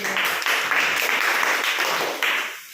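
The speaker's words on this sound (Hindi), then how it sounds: "ताली बजा दीजिए।" A classroom of students in a junior school algebra lesson gives a brief burst of clapping, dense and steady, then fading out at the end.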